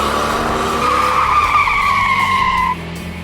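The Goodyear E70-15 tires of a 1968 Shelby GT500 with a Police Interceptor 428 big block spin and scream in a loud, sustained squeal that holds for nearly three seconds before dropping away, with engine roar underneath.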